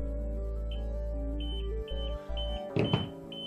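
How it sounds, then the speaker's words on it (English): A Plumb Guard MkIII plumbing safety monitor sounds its alarm, a quiet, steady electronic tone with a few brief higher beeps, then a short burst of handling clatter near the end. "the Plumb Guard has now got into alarm, and it's flashing all three LEDs, yellow and beeping"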